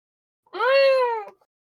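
A person imitates a cat's meow: one drawn-out, rising-then-falling meow lasting under a second, close and clear, with no other sound around it.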